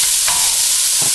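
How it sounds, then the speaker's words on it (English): Onion, green peppers and chili hit a pan with a little leftover oil, giving a steady, loud broadband sizzle of frying with faint stirring scrapes, close up and with no talking. "I'm going to throw in my onion and my green peppers"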